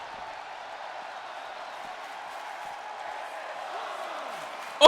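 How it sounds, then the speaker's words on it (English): Crowd noise fills an arena in the wrestling video game WWE 2K20 during a SmackDown show, a steady, dense roar of chanting and cheering that holds throughout and swells at the very end. "the crowd chanting"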